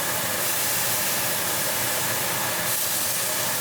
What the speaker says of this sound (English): This is where we throw the butter in.